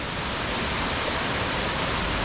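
Leke Leke Waterfall on a forest trek gives a steady, dense roar of rushing water, loud and unbroken throughout with no voices.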